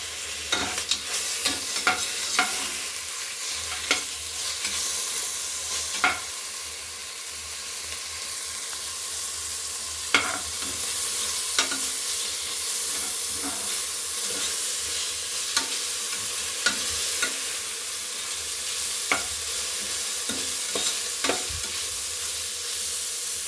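Ginger garlic paste sautéing in a pan for vegetable pulao, a steady close sizzle with frequent sharp scrapes and clicks of a spoon stirring, no voices.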